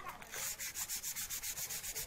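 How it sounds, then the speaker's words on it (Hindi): Wood is sanded by hand with 150-grit waterproof sandpaper during polishing, in quick, even back-and-forth strokes, roughly a dozen rasping passes in two seconds, close and alone. "सूखने के बाद में इसके ऊपर रेगमाल लगाना है 150 नंबर का वाटर प्रूफ रेगमाल"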